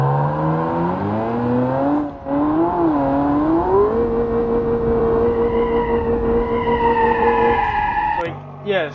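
A powerful rear-wheel-drive car in the BeamNG driving game, its engine revving loud and close with rising and falling pitch as the wheels spin, holding a high steady whine before cutting off abruptly near the end.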